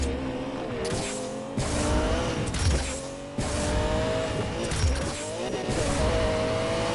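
A Lamborghini Murcielago supercar racing flat out in a drag race in Need for Speed Payback on PS4, its engine roaring loudly through repeated gear changes, with brief dips between shifts and tyre noise.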